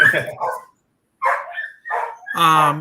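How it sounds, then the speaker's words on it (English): A dog barks and yips excitedly, several short loud bursts with gaps between them, as the owner's wife arrives home. "My wife just got home, so my dog's gonna go nuts."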